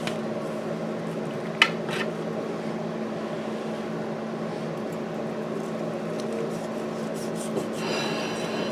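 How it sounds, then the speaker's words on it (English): A slice of Italian pasta pie being cut and plated, with faint knife and utensil scraping and a couple of small clinks against a dish over a steady low kitchen hum. "let's cut ourselves a nice slice of this"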